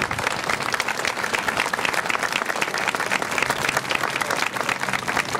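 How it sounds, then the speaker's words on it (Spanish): Congregation applauding in a Catholic church, loud continuous clapping from many people with a slightly uneven, lively rhythm and faint crowd voices underneath. "Aplausos para nuestra Santísima Madre."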